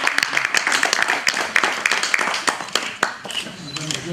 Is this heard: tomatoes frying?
no